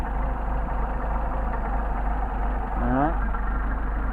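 A Mercedes 190SL engine idling on Solex carburetors, a steady low close rumble that lifts slightly in speed near the end, under a brief spoken word.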